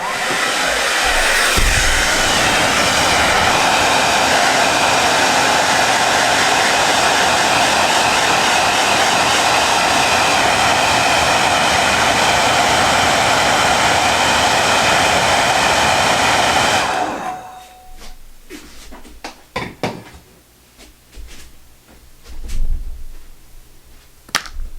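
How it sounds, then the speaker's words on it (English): A hair dryer blows loudly and steadily on a wet model ship hull for about seventeen seconds, then cuts off, leaving scattered handling clicks and knocks. "Get a hairdryer."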